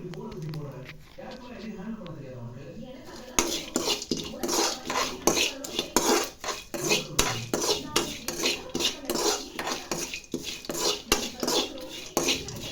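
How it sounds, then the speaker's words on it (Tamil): Peanuts are tossed into spiced puffed rice for homemade kara pori, a busy rattle of dry grains and metal spoon scraping in a bowl, close and continuous, with someone talking over it throughout. "வேர்க்கடலை ஒரு கால் கப் போதும் கடலை சேர்த்து நல்லா கலந்து விட்டுக்குங்க"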